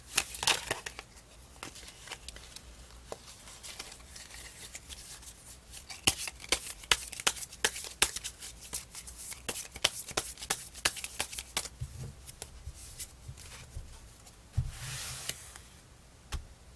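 Tarot cards shuffled close up in a quiet room, a steady run of soft crisp riffles and taps with a few louder slaps of the deck.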